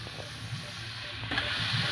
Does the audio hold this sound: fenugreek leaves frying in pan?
yes